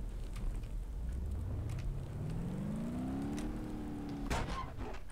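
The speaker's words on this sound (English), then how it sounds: "the engine make noise, but I don't think this truck is driving again" A truck engine in the BeamNG driving game hums steadily, its pitch rising gradually as it revs, then a sharp knock or impact lands near the end.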